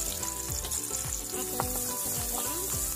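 Chopped garlic sizzles in hot oil in a pan, the first step before onion, tomato, shrimp and bamboo shoots go in; a steady, close crackling fry with a few scrapes of stirring and no talk.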